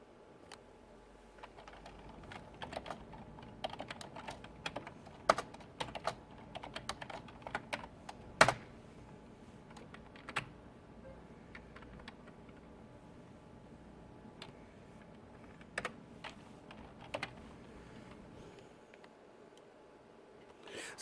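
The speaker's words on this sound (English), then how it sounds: "So I'm just going to type in my password." Keystrokes from a computer keyboard as a password is entered, scattered soft clicks with a few sharper presses over a quiet room tone, fairly close and unhurried, no talking.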